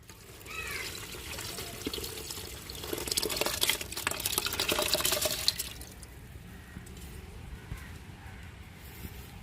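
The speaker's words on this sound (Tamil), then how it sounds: "இப்ப இந்த மசாலாவோட அரிசியும் பருப்பையும் களைஞ்சு அளவு தண்ணியோட ஊற வச்சிருக்கோம்," Soaked rice and lentils with their water pour into a pot of tomato-onion masala, a gurgling splash that swells for a few seconds and then fades into quiet, with no talking.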